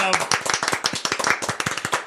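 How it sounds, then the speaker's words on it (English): One person claps alone, about twenty sharp, close hand claps in a quick, fairly even rhythm, crisp and distinct from one another. "I will clap for myself"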